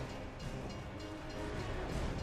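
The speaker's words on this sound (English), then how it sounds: "Train's coming!" Train rumbling closer in Gears of War 3, a steady broadband roar with rattling low-end clatter that swells slightly toward the end, loud and continuous with no voices.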